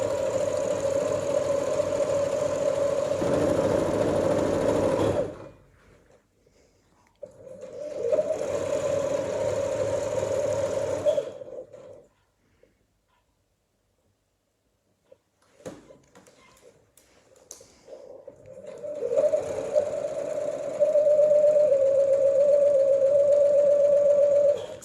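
A sewing machine stitches satin bias binding along a kimono vent in three steady runs of a loud, even motor hum and needle clatter, broken by short pauses and one near-silent gap.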